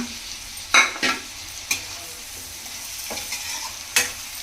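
Spicy vanjaram fish curry masala is stirred and fried in a pan, with sharp spatula scrapes at irregular intervals over a soft, steady sizzle.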